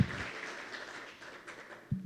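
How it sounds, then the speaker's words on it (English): Applause from an audience, a soft wash of many hands clapping close and steady for a couple of seconds, with a thump at the end. "a round of applause from the audience for everybody that's watching"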